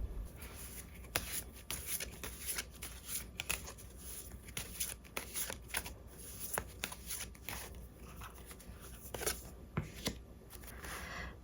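Tarot cards shuffled and handled at close range, a steady stream of soft papery riffles and flicks with sharper snaps scattered throughout, quiet and without talk.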